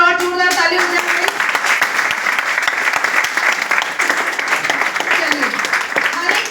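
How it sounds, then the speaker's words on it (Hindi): A hall audience honouring three role models at an International Men's Day event in Lajpat Nagar breaks into loud, sustained applause, many hands clapping steadily throughout after a brief spoken lead-in. "इनके लिए जोरदार एक बार और जोरदार ताली हो जाए"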